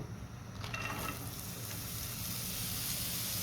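Green chilli, onion and carrot frying in a pan, giving a steady, fairly loud sizzle with faint stirring scrapes early on and no voices.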